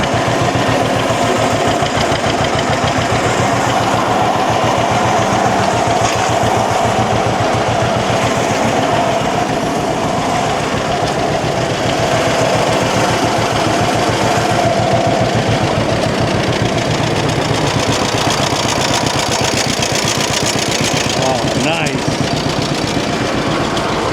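A John Deere B tractor's two-cylinder engine runs steadily with its flywheel turning, a loud continuous rhythmic chugging close by that holds throughout, with a voice heard over it.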